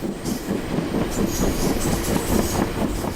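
A passenger train rumbles steadily along the rails, with rhythmic wheel clatter and a constant low roar. No voices are heard.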